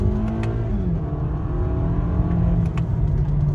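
A 2022 Toyota Camry with a 2.5-litre four-cylinder and paddle shifters accelerating hard from inside the cabin, its loud, steady engine drone climbing in pitch and then shifting down to a lower note.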